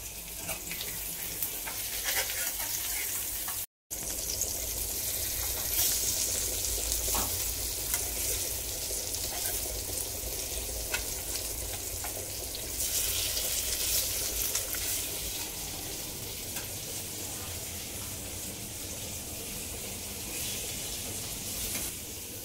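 Surmai fish steaks sizzle and fry in a pan with a steady, close crackle that continues throughout, broken by a short silent gap. Faint kitchen clatter appears now and then.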